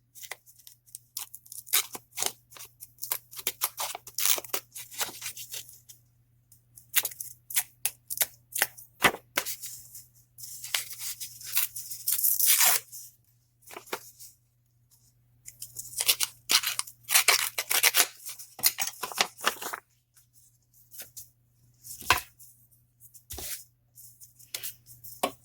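A cuticle tool scrapes and roughens the edges of paper in a mixed media project, giving bursts of scratchy, crinkly rasping in short irregular strokes with quiet gaps, close up and with no talk.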